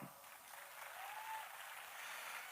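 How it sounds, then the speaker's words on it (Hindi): A crowd at a network-marketing seminar for an Ayurveda wellness company applauds steadily, a continuous even patter of many hands clapping, quiet and somewhat distant throughout. "जोरदार तालियां।"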